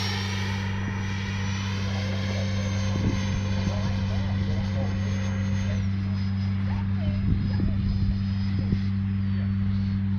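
An FMS Integral 80mm Sharky RC jet makes a low pass, a steady whining turbine-like hum with a high tone gently shifting in pitch, held at fairly even loudness over broadband rumble.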